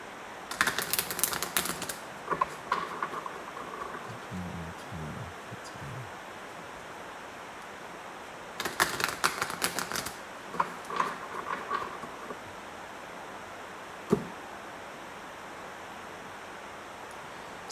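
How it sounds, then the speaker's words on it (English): A deck of thick cardstock oracle cards is shuffled in two bursts of rapid riffling flutter, with softer card handling and clicks between them, close and fairly quiet against steady background hiss. "They shuffle well. They're sturdy cards, let's say that."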